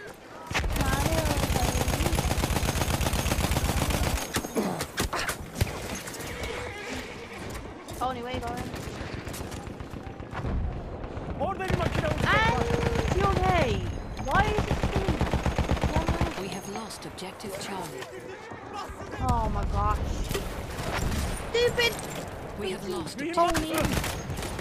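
Sustained bursts of Battlefield 1 gunfire from a castle area, with heavy rapid shooting in several loud volleys separated by brief lulls, while a player talks over the action.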